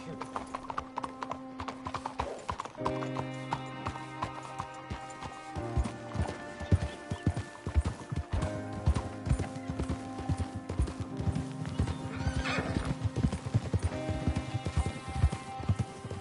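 Horse hooves clip-clop at a steady riding pace in Red Dead Redemption 2, loud and continuous over a bed of game music, with a brief whinny and no talk.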